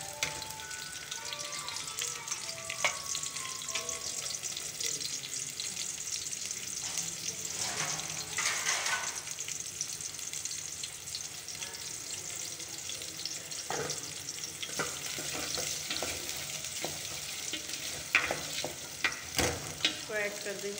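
About one and a half medium onions, sliced and dropped into preheated oil for kofta, sizzle steadily and softly while being stirred now and then, with occasional clinks of a utensil and no talk.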